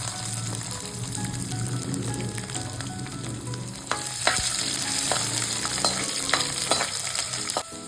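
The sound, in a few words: peanuts and chopped garlic frying in oil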